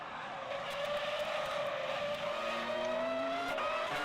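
Formula One race cars in a racing video game set at the San Marino Grand Prix brake hard, engines whining down in pitch while tires squeal faintly, a steady engine drone throughout with no talk.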